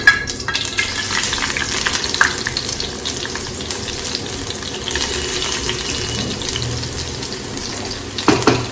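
Garlic frying in hot oil for a tempering in a North Karnataka home kitchen, a steady close sizzle running throughout, with a few louder crackles and stirring clatters near the end.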